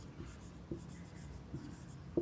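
Marker or chalk writes on a board in a few soft, brief strokes, faint and close over a quiet room background.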